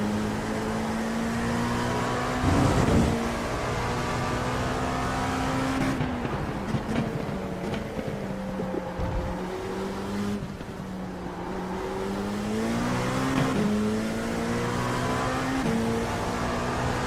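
Ferrari LMP2 race car lapping Silverstone circuit during testing, its engine droning loud and steady with pitch shifts through gear changes and accelerations, no talking.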